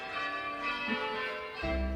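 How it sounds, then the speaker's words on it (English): The bells of Cartmel Priory ring in overlapping, sustained peals with a rich, resonant tone, heard alone and fairly close. "Ah, the bells of Cartmel Priory."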